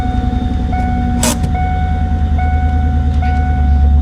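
A close engine of a 1997 Ford Mustang GT idles with a steady low rumble and faint whine, running continuously, with a short sharp clatter early on.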